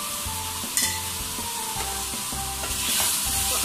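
Chicken karahi is stirred in a hot pan, its loud continuous sizzle broken by repeated scraping strokes of the spoon against the metal, close and alone.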